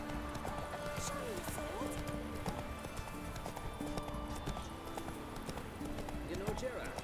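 Roach, a horse in The Witcher 3, moves at speed with a steady clip-clop of hooves throughout, heard under a voice and game music.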